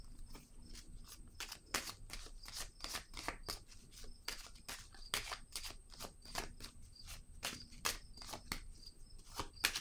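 Tarot cards riffle and snap in a rapid, steady run of crisp, close flicks and slaps, cards being shuffled and drawn one after another with no talking.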